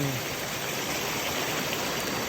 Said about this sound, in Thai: นี่ละน้ำตกบ้านในห้วย